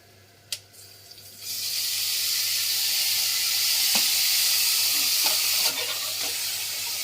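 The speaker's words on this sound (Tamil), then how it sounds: "இப்போ நம்ம தக்காளி போட்டுடலாம்." Tomatoes go into a hot pan for tomato biryani, bringing a sudden loud sizzle that settles into a steady frying hiss with a few stirring clicks and no talk.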